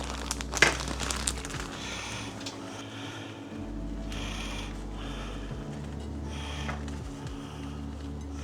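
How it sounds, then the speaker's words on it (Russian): Soft crinkling and rustling of a bag with a light granular patter as crumble topping is scattered over rhubarb, steady and close, with no talking. "И содержимое этого пакета мы сейчас посыпем сверху."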